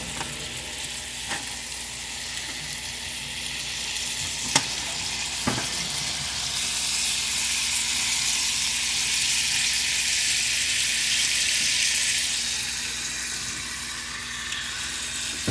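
Lamb frying in a pan gives a steady, bright sizzle throughout, with a few sharp clicks and taps of tongs or utensils against the pan near the start.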